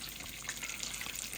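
Food frying in a pan while chicken adobo is cooked for a home lunch, a steady soft sizzle and crackle that runs the whole time without talk.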